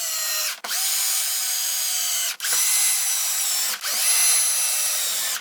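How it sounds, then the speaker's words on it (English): A power drill drives reinforcement screws into wood in three sustained high-pitched whirring runs, each cut off by a brief pause, loud and close with no talking. "And I insert more reinforcement screws."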